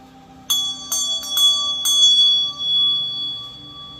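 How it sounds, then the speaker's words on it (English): A meditation bell rung several times in quick succession, each clear metallic strike leaving long ringing overtones that overlap and slowly fade, close and alone with no talking. "I'm going to ring my meditation bell."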